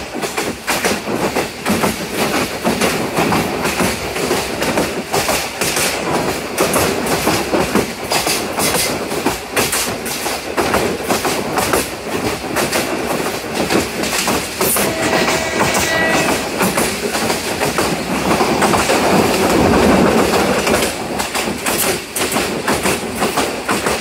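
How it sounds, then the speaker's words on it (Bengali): Egarosindur Provati Express train running on the Kishoreganj line near Bhairab Bazar at about 50 km/h, a steady, loud rumble of wheels on rails with continuous clickety-clack rattling throughout and no voices. "আর বর্তমানে আমাদের ট্রেনের গতি হচ্ছে প্রায় 50+ কিলোমিটার।"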